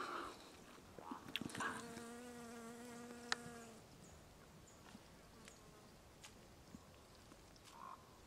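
Bees buzz around tobacco plants growing outdoors, a faint, wavering hum rising and fading as insects pass nearby, with a few soft rustles and clicks and no voices.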